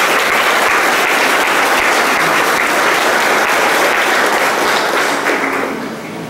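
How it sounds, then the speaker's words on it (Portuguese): A church congregation at a Christian service gives a loud, dense round of applause that holds steady for several seconds, then eases off near the end. "Mais uma vez, uma salva de palmas."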